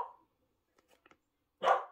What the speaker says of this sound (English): Sorry, the dog.